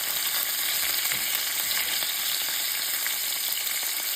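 Oxtails brown in a frying pan with a dense, steady close-up sizzle of hot fat, constant and loud with no voices.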